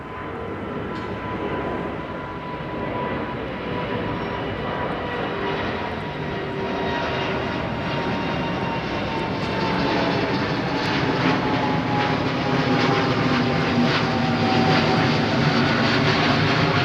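A Finnair Airbus A350 airliner passes at Heathrow Airport with a loud, sustained jet engine roar and a broad rushing noise that builds slightly, with no voices.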